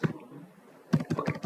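Keys clatter on a computer keyboard during a Linux terminal session, with a single tap, a short pause and then a quick run of close, crisp keystrokes.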